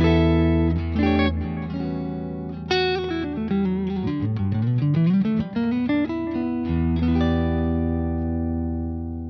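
Clean electric guitar with single-coil pickups, a Fibonacci Roadmaster 56 played through a Port City Pearl amp, ringing out chords and a descending melodic run with sustained, reverberant notes that fade at the end.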